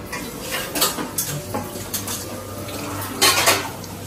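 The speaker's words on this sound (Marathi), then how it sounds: "कांदा पोहे इज इन मेकिंग." Steel pans and utensils clink and scrape in a home kitchen while kanda poha is cooked for breakfast, with repeated close metallic knocks and a cluster of clatters near the end.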